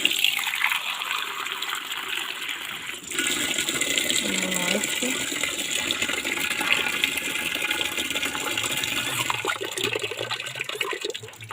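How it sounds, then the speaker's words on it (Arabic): Water gushes and splashes steadily as it is poured into a small waterer for baby chicks, a close, continuous pouring sound lasting most of the clip. "دي السقايه اللي انا هحطها الميه الكتاكيت بتاعتنا الصغيرين"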